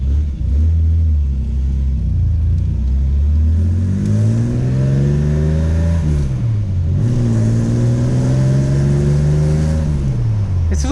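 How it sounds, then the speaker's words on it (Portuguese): A 1987 Chevrolet Opala Diplomata with a six-cylinder engine drives past loud and close, its rumbling engine rising and falling through several gear changes as it accelerates, with no talk over it. "Esses Opala 6 cilindros são muito prazerosos de guiar, né?"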